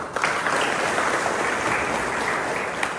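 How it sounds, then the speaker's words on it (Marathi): A village assembly crowd claps steadily for about three seconds, dense and close, with no one speaking over it. "त्यांच्यासाठी दोघांना टाळ्या वाजवा"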